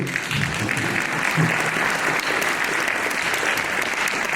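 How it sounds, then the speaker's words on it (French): Dense, sustained audience applause fills a regional election political meeting in Rennes, steady and loud throughout with no pauses and a faint crowd murmur beneath. "On peut applaudir."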